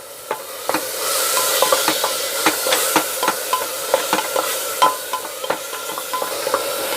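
Tomatoes and onions sauté in oil in a pan for chole, giving a continuous soft sizzle broken by clinks and scraping taps of a stirring spoon.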